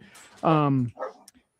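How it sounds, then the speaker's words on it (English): A dog barks loudly in one sustained, harmonic burst with a short whimpering follow-up, close to the microphone, breaking into a conversation. "sorry for my dogs"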